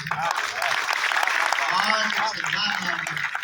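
Thin, scattered applause from an audience at a Hindi comedy poetry gathering, a light patter of claps with murmured voices underneath.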